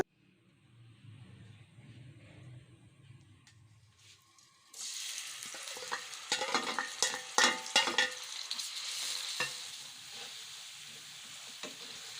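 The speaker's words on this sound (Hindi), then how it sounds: "अब हम आपको तड़का दिखाते हैं इसका बस।" Tadka for sarson ka saag, with green onion added, hits hot oil and bursts into a loud, steady sizzle and crackle after a few quiet seconds, continuing alone at close range.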